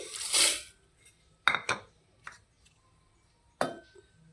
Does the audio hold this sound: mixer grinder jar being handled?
yes